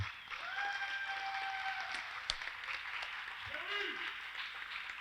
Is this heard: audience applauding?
yes